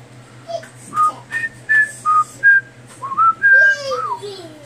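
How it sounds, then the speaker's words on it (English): A person whistles a bright, melodic tune from the Tom and Jerry episode Jerry Quite Contrary, clear and close, in a run of short separate notes ending with a longer sliding phrase. "my whistle tune is from Tom and Jerry episode Jerry Quite Contrary"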